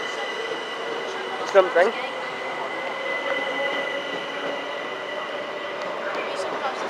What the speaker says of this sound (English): Here goes your delayed 11:32 Southeastern service to Ramsgate via Canterbury West. It's 375.